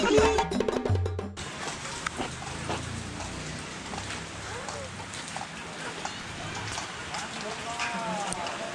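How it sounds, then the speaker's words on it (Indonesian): Steady rain falling on a forest trekking trail, a constant close hiss of drops filling the clip after a brief louder bump at the start, with faint voices under it. "Hujannya lumayan."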